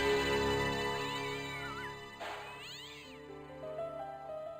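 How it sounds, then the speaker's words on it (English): A cat meowing loudly in a computer adventure game, Broken Sword, two long drawn-out wailing meows followed by softer musical tones, close and prominent. "That's a loud cat."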